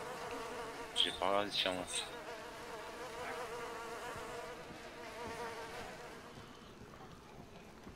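Flies buzz steadily in a video game, a continuous droning hum that persists throughout while a person talks briefly near the start.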